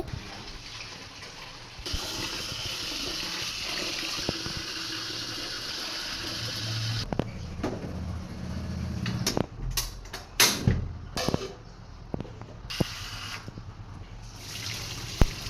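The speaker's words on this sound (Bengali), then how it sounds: "মা এখন চাল ধুয়ে নিচ্ছে" Rice being washed by hand at home in a Bengali kitchen: steady running water and sloshing with irregular splashes and clatters of grains and vessel, moderately close, no talking.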